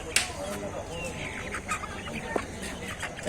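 Country chickens cluck and squawk in short bursts at Nilganj market near Barasat, India, amid a busy, noisy background with faint voices nearby.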